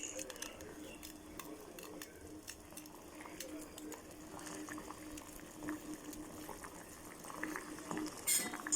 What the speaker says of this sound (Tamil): இங்கே பாருங்கள் இந்தளவு கொதிச்சாதான் காய்கறி வந்து வேகும் நல்லா